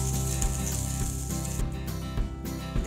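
A karandi omelette fries on a low flame with a steady, even crackling sizzle that holds at moderate loudness throughout, with no talking.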